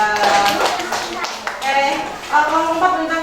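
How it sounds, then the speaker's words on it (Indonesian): Classroom applause for a group of fourth-grade students, a short burst of clapping mixed with children's voices and chatter, close and busy. "Tepuk tangan untuk kelompok 3."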